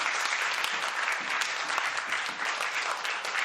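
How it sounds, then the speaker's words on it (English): Talk audience gives the speakers a round of applause, continuous dense clapping from a large crowd, loud and even throughout with no talking over it. "let's just give another round of applause for all the speakers that just spoke"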